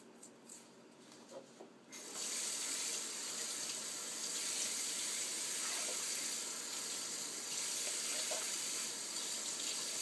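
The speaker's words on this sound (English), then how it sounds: "you mix that with 2 cups of water" Water from a tap runs steadily into a pot of flax seeds in a kitchen, a continuous close gushing rush that starts after about two seconds of quieter handling noise.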